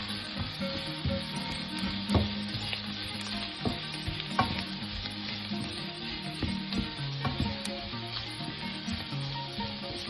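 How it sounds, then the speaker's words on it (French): Shakshuka being stirred in a sizzling pan, with continuous frying crackle and scraping stir strokes throughout, fairly quiet and close, no talking. "On mélange bien."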